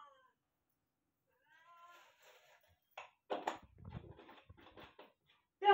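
House cat meowing in a kitchen, a few short plaintive meows that start faint and grow louder and more insistent, separated by quiet pauses, with a final loud cry close by.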